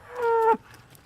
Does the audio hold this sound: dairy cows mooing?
yes